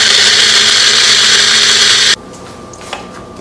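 An electric mixer grinder whirs loudly, grinding coconut powder, sesame seeds and amchur, then cuts off abruptly after about two seconds, leaving quiet room noise and a faint click.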